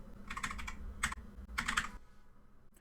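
Rapid keystrokes on a computer keyboard in three short bursts, crisp and close, as a word is typed into Windows search, followed by a brief pause and a final tap.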